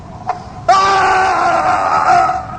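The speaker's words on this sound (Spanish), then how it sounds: "Se oyó un grito." A loud, sustained scream rings out in a dramatized reading of Poe's tale, set in a velvet-hung hall. A faint sound comes first, then the cry rises abruptly and holds for about two seconds, wavering and raw.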